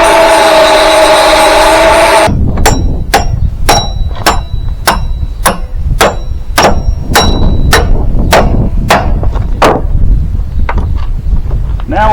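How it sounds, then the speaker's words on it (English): Metal bolt struck repeatedly with a Husqvarna tool to straighten its threads on a hay wagon build: after a loud opening noise, about fifteen sharp, ringing hammer blows land in a steady rhythm, close and loud. "Seeing as how I remove this bolt with my Husqvarna fine tuning tool, probably ought to straighten the threads up."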